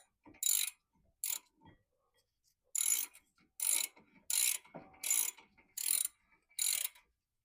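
A ratchet snugs up brake caliper bracket bolts, giving about eight quick bursts of close, crisp ratcheting clicks separated by short pauses, with no talk.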